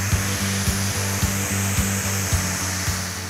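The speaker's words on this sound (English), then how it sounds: "I was very dubious at first about using the angle grinder" An angle grinder with a sanding attachment runs steadily while grinding thick skin on a person's feet, its hum broken by regular rhythmic pulses about twice per second as the disc is worked back and forth.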